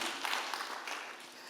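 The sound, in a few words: audience applause for Douglas Rushkoff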